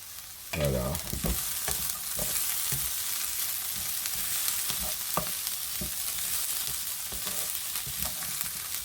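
Onions and garlic fry with a steady hiss in a pan while a spoon scrapes and stirs in repeated, irregular strokes; no voices are heard.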